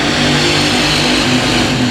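Dirt track race cars roaring at full throttle off the green flag of a heat race, a loud, dense, continuous engine blare close by.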